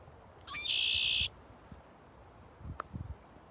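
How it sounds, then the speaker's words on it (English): A red-winged blackbird gives a single harsh, buzzy trill lasting under a second, clear and fairly close against faint outdoor background, followed by a few soft rustles and clicks. "Red-winged blackbird, because it's a black bird with red on its wings."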